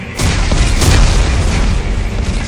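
Explosives detonating in the video game Dead Space 3, a loud sustained rumbling boom that swells after a brief quiet start and roars on with little decay.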